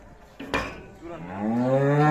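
A cow moos once nearby, a long rising bellow lasting over a second, preceded by a brief knock or thud.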